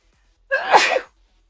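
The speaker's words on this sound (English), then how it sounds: "Oh, I have to sneeze." A single sneeze, close and loud, bursting out after brief quiet and lasting about half a second, with no talking around it.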